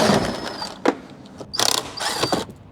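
A ratchet wrench works a bolt loose from a Tesla center console, giving short, close, rasping clicks in a few separate bursts with pauses between them.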